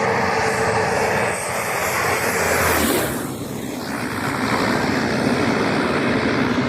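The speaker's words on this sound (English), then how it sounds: "This Airbus A330 really showing off its engine power because of the wet runway." An Airbus A330 comes in to land on a wet runway, its engines roaring loud and steady with heavy spray hiss that swells and eases briefly before building again.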